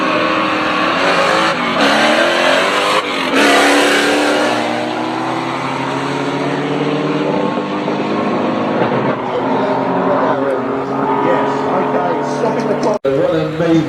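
A Porsche with a twin-turbo 3.8 engine accelerates hard down a no-prep drag strip at Manston, a loud, continuous roaring engine note climbing through gears, near and dominant throughout.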